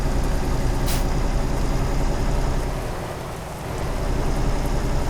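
Steady rain mixed with the low rumble of a truck engine in Euro Truck Simulator at night, a loud continuous wash that dips briefly before swelling again.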